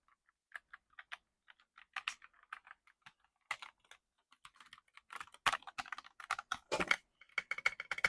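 Keys clack on a Womier Klymra X75 75% wired mechanical keyboard, sparse clicky taps at first that grow into faster, louder bursts of typing, close up with no talk.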